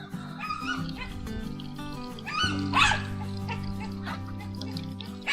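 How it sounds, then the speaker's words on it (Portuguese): Dogs barking excitedly at night at an opossum visiting a rural yard, with close yips, whines and sharp barks over a steady hum. "Os cães estão doidos, latindo"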